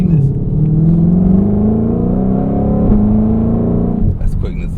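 Loud, close V8 muscle car accelerating hard, the engine note climbing steadily through a gear before a brief dip and rise, with a shout at the end.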